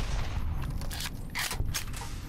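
A quick burst of several gunshots from the video game Fallout: New Vegas, sharp and close, followed by brief mechanical clatter.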